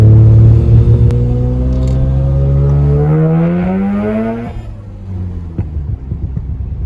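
A rotary-engine car, a freshly serviced 13B with new plugs and coils, accelerates hard under turbo boost, a loud rising engine tone climbing steadily for several seconds before easing off to a lower idle-like burble.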